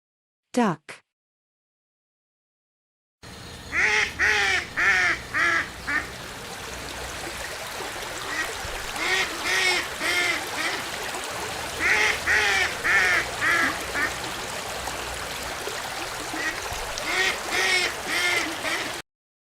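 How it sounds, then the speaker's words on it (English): A duck quacks loudly in rapid, repeated bursts, the calls close and dense and running steadily to the end after a short, faint squeal and a gap of near silence at the start. "Duck."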